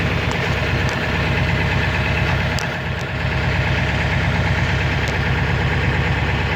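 A Ford 7.3 diesel truck engine runs at high idle, a loud, steady rumbling drone with a rough knocking undertone, close by and uninterrupted, with no talking.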